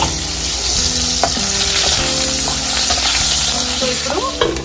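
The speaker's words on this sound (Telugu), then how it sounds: "సో ఇప్పుడు ఒకసారి కలిపేసుకొని వీటిని ఫ్రై చేసుకోవాలి." Potatoes being stirred and fried in a pan for an Odia-style chicken curry, with a utensil scraping and clattering against the pan in a steady rhythm over a continuous loud sizzle, close up.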